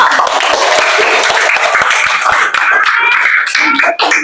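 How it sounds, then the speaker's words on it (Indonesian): Classroom audience applauds group 3 as they come forward at a teacher performance exam session, a dense, steady patter of many hands clapping close by, holding level for the full stretch with scattered sharper claps. "Tepuk tangan untuk kelompok 3."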